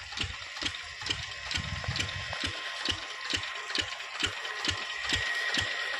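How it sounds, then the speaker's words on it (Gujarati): Rhythmic mechanical ticking from a farm water pump motor running beside an irrigation canal in a wheat field, steady and close, with a bed of rushing water noise underneath. "અમારી મોટર ચાલુ છે"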